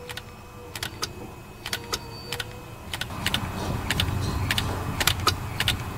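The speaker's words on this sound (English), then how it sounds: "when I send power to the solenoid, I can hear it click inside the transmission" On a Toyota Solara with a transmission that won't upshift (code P0766), a solenoid inside the transmission clicks when powered, giving a series of sharp, faint, evenly spaced ticks over a low background hum.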